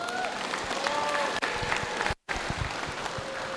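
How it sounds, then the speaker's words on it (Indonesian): A lecture audience bursts into applause, a dense patter of clapping hands filling the hall with a brief dropout partway through. "Tepuk tangan dong."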